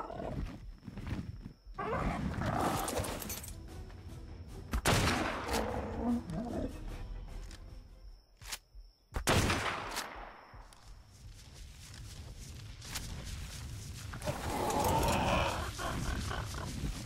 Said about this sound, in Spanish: Un par de tiros y cae ya.